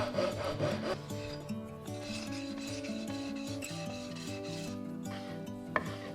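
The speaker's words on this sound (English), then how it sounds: "I first tried to cut the curves using a coping saw" Rough, steady sawing with a coping saw through thick timber, stroke after stroke, with background music playing throughout.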